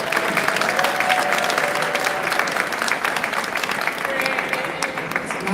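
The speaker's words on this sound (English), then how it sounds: "give another round of applause for all the folks that were interviewed in that beautiful video" Sustained crowd applause at a twentieth-anniversary celebration event, dense and even clapping filling the room throughout, with faint voices mixed underneath.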